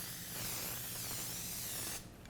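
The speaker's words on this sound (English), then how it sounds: "Before you put that on, we should spray this." Cooking spray hisses steadily from a can onto a pan or sheet to keep chocolate chip marshmallow cookies from sticking, a close, continuous spray lasting about two seconds before cutting off.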